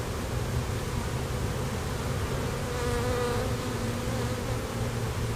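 A honey bee swarm fills a backyard with a dense, continuous buzzing hum. The sound is loud, close and steady throughout, with no speech.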